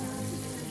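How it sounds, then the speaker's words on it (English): Water runs steadily from a kitchen sink tap while broccoli is being cooked, a short continuous hiss with no talking. "so I'm going to run water"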